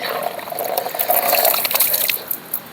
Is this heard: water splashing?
yes